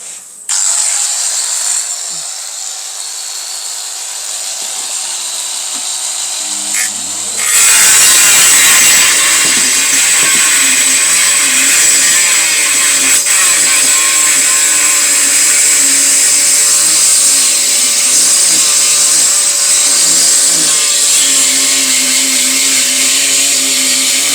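Rotary engraver fitted with a 45 mm Distar Butterfly cutting disc spins up with a sharp jump in loudness, then holds a loud, steady high-pitched whine with a gritty buzzing edge, after a quieter lower-pitched motor hum.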